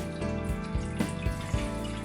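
Water poured into a bread maker pan, 2¼ cups, with a steady splashing pour running throughout and a few louder sloshing pulses.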